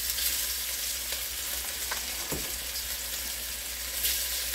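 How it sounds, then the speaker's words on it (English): Pork stew meat browning in a pot for a one-pot stew, giving a steady, close sizzle and frying hiss throughout with a few faint stirring clinks and no talking. "we're going to get this meat here and just drop it down in here. We just want to brown it."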